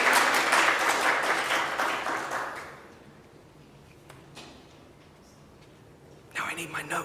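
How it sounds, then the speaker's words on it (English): A crowd claps loudly, then the applause fades out over a few seconds into near silence before a voice begins speaking. "Give yourselves a round of applause."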